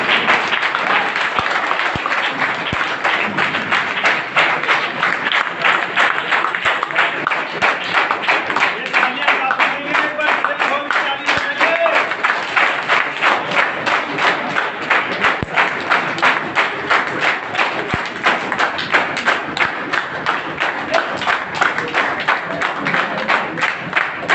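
Audience clapping for a family on stage at a celebration event, dense sustained applause throughout, loud and rhythmic, with a voice heard over it at times.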